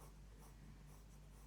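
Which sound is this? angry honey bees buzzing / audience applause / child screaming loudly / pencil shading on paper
pencil shading on paper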